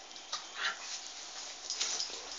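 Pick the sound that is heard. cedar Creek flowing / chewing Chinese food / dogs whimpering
dogs whimpering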